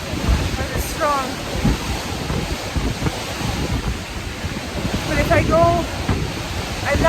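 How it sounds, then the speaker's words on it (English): Very strong wind roaring across an exposed mountain pass on a sunny day, a constant heavy buffeting rush battering the microphone, with brief whistling tones rising now and then through the gusts. "the wind, I don't think I've ever been in wind this fast before, or this strong."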